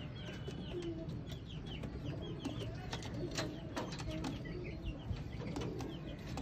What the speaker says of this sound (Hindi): शर्मीले कबूतर।